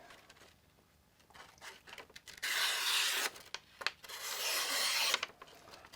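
Rasping strokes of a Gerber Kettlebell folding knife blade drawn across a sharpener, a few bursts of scraping at close range between quieter pauses.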